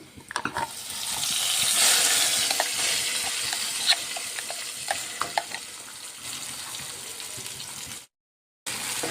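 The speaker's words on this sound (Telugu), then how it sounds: "పచ్చడి మొత్తం వేసుకొని పోపులో వేయించుకుందాం" Cucumber sesame chutney fries in hot tempering oil, a loud close hiss and sizzle with scraping stirs and small pops, continuing steadily before a brief silent gap near the end.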